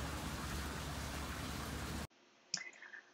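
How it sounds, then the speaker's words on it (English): Steady, dense hiss of heavy rain pouring down for about two seconds, then it cuts off to near quiet with a single sharp tap. "Yes, that is rain, coming and coming hard."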